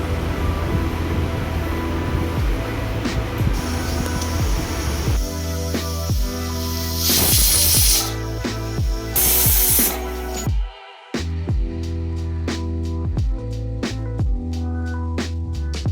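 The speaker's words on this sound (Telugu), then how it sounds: "10 విజిల్స్ పెట్టుకోవాలి" Pressure cooker with mutton bones for soup, steam hissing in loud broadband bursts with several sharp whistle-like releases among steady kitchen noise, then a brief drop and continued sputtering.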